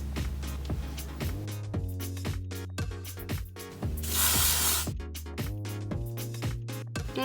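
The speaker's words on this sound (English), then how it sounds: "I'm just going to spray all over" Hairspray is sprayed over freshly curled hair in a short aerosol hiss, strongest midway through and heard up close.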